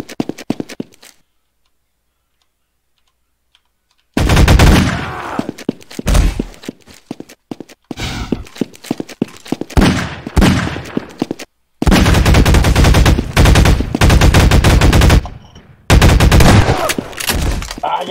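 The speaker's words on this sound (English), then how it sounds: "That's the reason why you got shotgun in the face!" Shotgun blasts in a Half-Life 2 deathmatch game on the Dust II map, loud rapid bursts of gunfire in several clusters separated by brief silences, with clipped, harsh reports close up.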